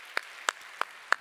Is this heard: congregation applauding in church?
yes